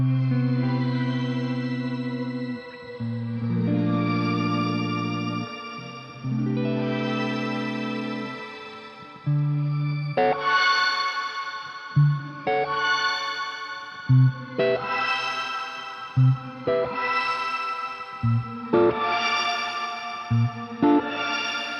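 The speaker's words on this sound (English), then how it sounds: "Shimmer is one of the more recent trends in reverbs, where it adds an octave up to the reverb sound." Guitar chords ring out through a shimmer reverb that adds an octave-up wash, first long sustained chords, then a run of rhythmic strums, each trailing into a bright ethereal tail.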